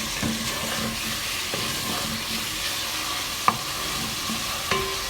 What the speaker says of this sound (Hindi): अच्छे से इसको फ्राई करेंगे 2 से 3 मिनट।